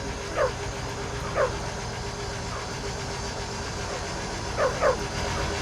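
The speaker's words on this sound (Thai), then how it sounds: "เห่าทักทายกันแบบหมาภาษาหมา" Dogs bark in a Roblox video game, with a pair of short barks, a single bark, then another close pair, sounding over a low steady engine-like hum at moderate level.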